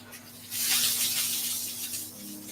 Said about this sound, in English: So I'm able to spray that directly onto the pan without any aid.